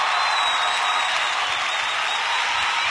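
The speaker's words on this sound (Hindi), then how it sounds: "जोरदार तालियां" Audience applause at an award ceremony, a dense, steady roar of many hands clapping at moderate volume, continuous for the whole stretch with little talk.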